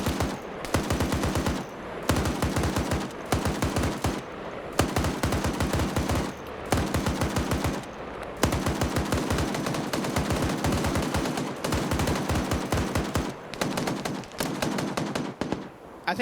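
Gunfire in an Arma 3 multiplayer PvP operation: loud, close bursts of automatic weapon fire repeat in rapid strings, separated by short pauses, across the whole stretch.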